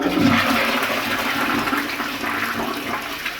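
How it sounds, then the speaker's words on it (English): A toilet flushes in a steady, loud rush of water that runs for a few seconds, heard up close in a bathroom during a drain-unblocking job. "Let's give the dunny a flush and see if she's working all right."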